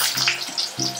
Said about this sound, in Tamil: கடாயை வச்சு எண்ணெய் ஊற்றி கடுகு கொஞ்சம் சோம்பு தாளிச்சிருக்கேன்